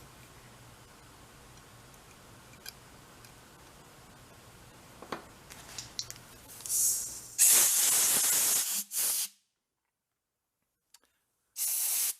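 An aerosol can of brake cleaner hisses in long, loud bursts over old mini Harley carburetor parts, starting after quiet ticking and clatter, then cutting off into silence before one more short, strong spray near the end.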